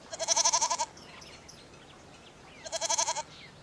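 A goat gives two bleats, each a rapid wavering, quavering call lasting under a second, separated by a quiet pause and heard fairly close and clear.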